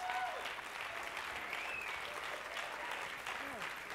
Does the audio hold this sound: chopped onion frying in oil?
no